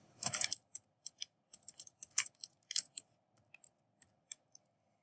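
Keys on a computer keyboard clatter as a date is typed into a Word document, an opening burst followed by irregular clusters of crisp, close keystrokes and short pauses.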